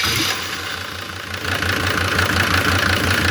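A Mercedes OM602 2.9-litre diesel engine in super condition idles with a rapid, even knocking clatter and a low rumble, loud and close, swelling slightly in the second half.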